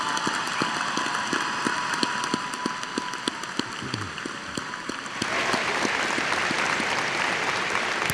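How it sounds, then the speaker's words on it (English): A high school graduation audience gives a big round of applause, a dense, rain-like wash of many hands clapping that swells even louder partway through. "Help me congratulate all these students with a round of applause."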